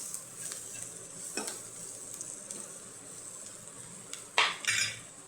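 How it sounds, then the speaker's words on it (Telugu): Potato pieces dropped into a hot pan of gravy base, sizzling steadily while a utensil scrapes and stirs, with a louder clatter and burst of frying near the end; no talking. "కలుపుకున్న తర్వాత ఆలుగడ్డ ముక్కలు వేసుకోవాలి"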